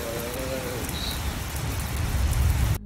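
Steady rain falls across the whole stretch, a dense even hiss that builds slightly toward the end before cutting off abruptly; a faint brief tone appears early on.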